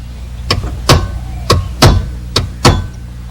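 Six sharp metallic strikes ring out close by in an uneven rhythm as a small hammer taps a chisel against a car ignition lock's guard ring, each with a brief ringing tail.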